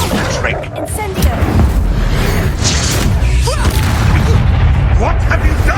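A fire spell bursts out in the Hogwarts Legacy game, a dense, sustained roar with booming low rumble and crackle running throughout, loud and steady for several seconds.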